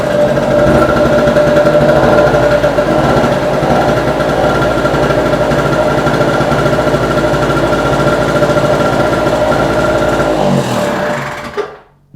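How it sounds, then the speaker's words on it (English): A two-stroke small generator runs steadily for about ten seconds, a loud, buzzing, rattly drone with strong harmonics, then cuts off and winds down abruptly near the end. "I'm going to put on the generator"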